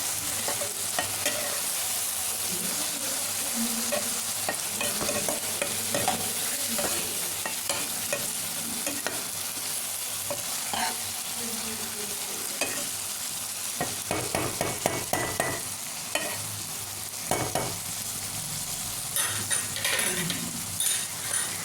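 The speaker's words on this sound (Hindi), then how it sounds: "अब मैं इसे मिक्स कर लूँगी।" Potatoes with chili and salt stirred and frying in a pan, a steady close sizzle with repeated scraping and stirring strokes throughout, no talk.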